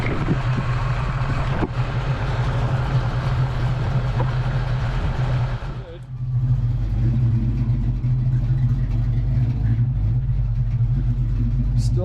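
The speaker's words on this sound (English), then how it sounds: "the car was idling pretty good" A Foxbody Mustang engine idles steadily and close by, a continuous low rumble with a faint brief dip midway; no talking.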